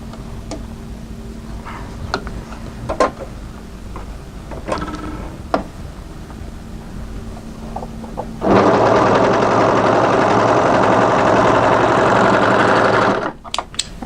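A domestic sewing machine stitches a knit cardigan seam, first a few sparse ticks and clicks, then a loud, steady mechanical whir for several seconds that stops abruptly.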